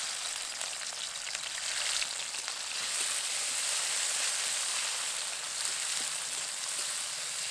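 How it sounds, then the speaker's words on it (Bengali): Prawns rubbed with salt and turmeric fry in mustard oil in a kadai, a steady, even sizzle with a fine crackling hiss that runs on without a break and has no voices over it. "তার জন্য প্রথমে চিংড়ি মাছগুলো ভেজে নেব"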